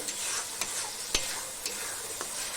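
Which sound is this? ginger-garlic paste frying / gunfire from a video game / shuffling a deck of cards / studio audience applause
ginger-garlic paste frying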